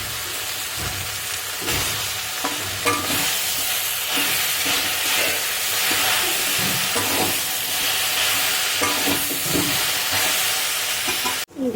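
Chalta (elephant apple) pickle with jaggery being stirred in a pan, giving a continuous close sizzle and hiss with intermittent scraping and stirring knocks, steady throughout with no speech.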